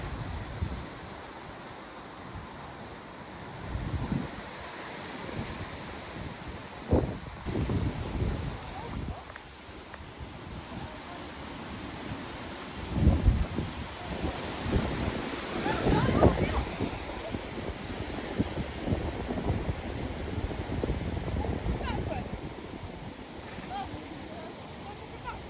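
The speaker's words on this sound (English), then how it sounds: "this is mega windy now" Strong gusts sweep across an outdoor camping spot, with rough buffeting and roaring surges that swell and ease over about twenty-five seconds and never fully die away.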